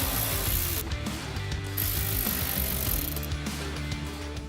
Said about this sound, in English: You will also need to grab a 10mm socket to remove 2 bolts underneath our hood latch holding on the sensor.